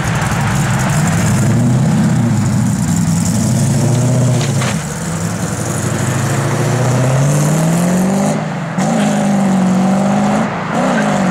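A 1972 Chevrolet Nova's engine runs steadily and loudly up close, a deep rumbling tone rising slightly as it revs, with brief dips near the end.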